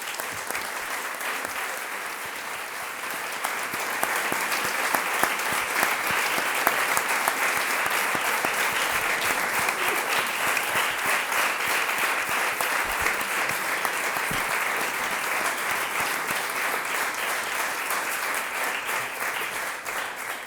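Sustained applause from an audience following an academic induction speech, steady, dense clapping filling the whole stretch without talk.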